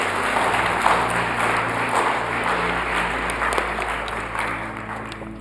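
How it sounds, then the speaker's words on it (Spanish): Church congregation applauding during a sermon, a steady sustained wash of clapping that holds at an even level throughout with no voices over it. "Dele un aplauso a Cristo, porque Él se lo merece"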